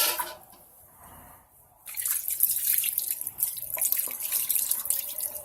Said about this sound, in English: Take up some water from there and pour on it.